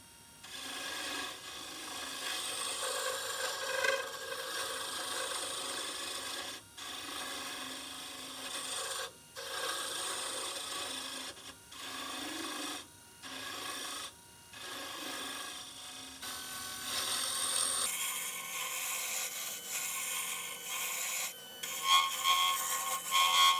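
A wood lathe turns a pen blank fitted with brass parts while a tool rasps against the spinning wood. The scraping is loud and steady, broken by short regular pauses, with no talking.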